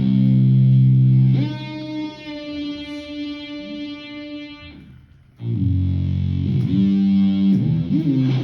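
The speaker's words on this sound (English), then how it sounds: "it combines a really long reverb with a pitch change" A built-in effects unit at a live concert blends a very long reverb with a pitch shift, turning loud sustained tones into a shimmering, distorted wash that fades out, then bursts back in loudly near the end, with no speech.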